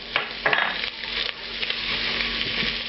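Diced red bell pepper, onion and celery sizzle in a pan for jambalaya, a soft steady fry broken by a few scraping stirs and utensil clinks near the start.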